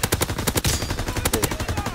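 Rapid machine-gun bursts in Call of Duty: World War 2, loud, close and rhythmic, sharp repeated shots running nearly continuously for the whole stretch.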